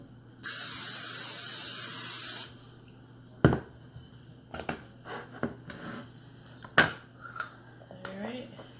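Cooking spray hisses onto a pan in one steady two-second burst while preparing roasted chickpeas, followed by light clinks and handling noises of kitchenware.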